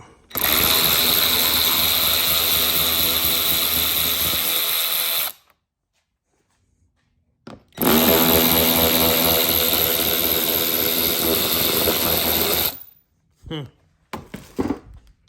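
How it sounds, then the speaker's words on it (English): A power ratchet backs bolts out of the body panels of a Polaris RZR Pro XP side-by-side, with two long, loud, steady whirring runs separated by a quiet gap, then a few short choppy bursts at the end. "So we're just gonna take our ratchet, start pulling these bolts out."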